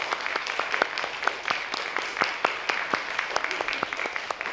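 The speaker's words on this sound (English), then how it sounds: "Boys and girls, would you mind giving Mr. Lee a round of applause?" Middle school students at a Veterans Day program applaud Mr. Lee, a veteran, with moderately loud, scattered clapping where individual sharp claps stand out irregularly against a thinner crowd wash throughout.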